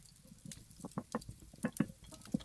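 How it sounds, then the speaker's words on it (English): Rain patter in the survival game Vintage Story, faint irregular droplet taps scattered across the moment, soft and close without any talk. "completely forgot rain's a thing"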